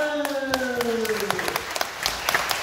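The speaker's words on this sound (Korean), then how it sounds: "아멘. 박수." Audience applause at a church gathering, a burst of scattered hand claps that builds over a few seconds, mixed with voices talking in the room.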